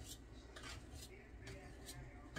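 A utensil whisking cake batter in a bowl to smooth out lumps of flour for a cinnamon roll coffee cake, giving quiet scraping clicks against the bowl in a quick irregular rhythm, close and faint.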